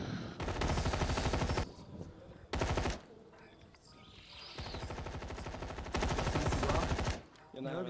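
Rapid automatic gunfire bursts from a competitive first-person shooter match at a championship event, long loud volleys separated by brief pauses, with players talking faintly underneath.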